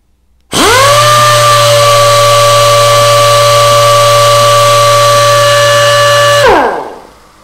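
A pneumatic sander starts abruptly and spins at a constant high-pitched whine for about six seconds, loud and close, then shuts off and winds down.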